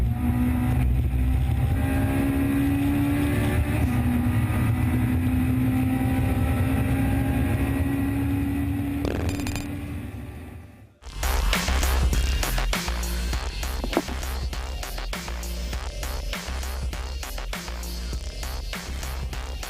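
Yamaha R1 race bike lapping Mugello at high speed, a loud sustained engine whine rising through the gears under heavy wind roar, cutting out briefly near the middle before returning as a harsher, busier roar.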